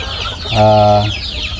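On a free-range farm raising kampung chickens, including black KUP birds and brown laying hens, one hen lets out a clear drawn-out cluck over a background of soft chirping and clucking from the flock.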